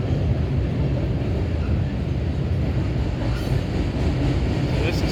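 Mixed freight train hauled by BNSF locomotives rolling past at Oak Harbor, a steady, loud, close rumble with continuous rail clatter that holds evenly throughout.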